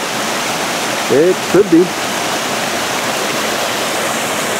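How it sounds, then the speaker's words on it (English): A waterfall in the mountains of Japan roars as a loud, steady rush of falling water close by, with someone briefly speaking over it partway through. "Here's a nice waterfall."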